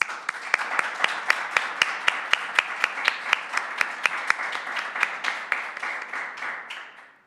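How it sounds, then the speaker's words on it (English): A modest audience at an academic lecture gives warm applause welcoming a speaker; distinct individual claps ring out in a steady rhythm, fairly close, then taper off at the end. "Please help me to welcome Maria with a warm applause"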